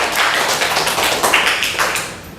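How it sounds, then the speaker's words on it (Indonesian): A classroom audience gives a burst of applause, many hands clapping in a dense, steady patter that fills the room for a couple of seconds, loud and close with no talk over it. "Tepuk tangan dulu Mbak Jocelyn."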